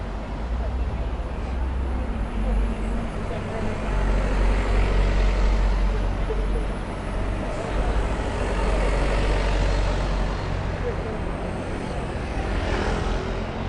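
A vehicle roars past fast on a London street near the Ugandan embassy, a broad loud engine and tyre rumble that swells and fades over steady traffic noise, with someone talking nearby.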